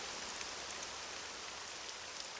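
Rain falling in the town of Balmora in The Elder Scrolls III: Morrowind, a dense, steady hiss of raindrops with faint scattered patters, continuous and even throughout with no voices.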